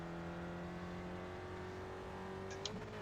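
A race car engine in the iRacing video game, an SRF at Lime Rock Park, drones at a steady, bogged-down pitch, then shifts with a short jump in tone near the end, with no talking.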